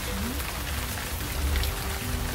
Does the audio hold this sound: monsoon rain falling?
yes